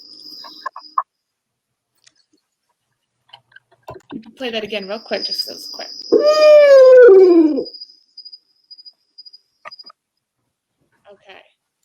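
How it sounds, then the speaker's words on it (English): Barred owl call played back in a forest-bird quiz, a loud hooting series with descending wavering howl-like notes near the middle, with people talking before and after. "Again, it's a bird that you find in the forest, and it is the barred owl."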